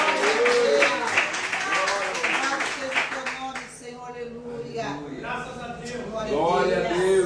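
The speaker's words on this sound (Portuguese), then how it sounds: "Aplauda ao Senhor com o seu melhor" A church congregation claps together at a service, a dense stretch of hand-clapping mixed with voices and singing-like calls, loud at first, easing off in the middle and rising again at the end.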